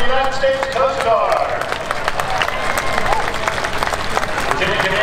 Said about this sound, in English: how about a huge round of applause for the United States Coast Guard